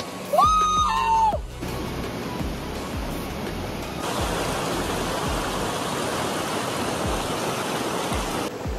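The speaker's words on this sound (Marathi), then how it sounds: "इथून वाहतं पाणी यायला लागलंय आणि असं ह्या तलावाला जाऊन मिळतंय" Steady broadband rush of water flowing from a mountain spring into the lake at Valvan Dam near Lonavla, continuous and fairly close, with a louder splash of something at the very start and no talking.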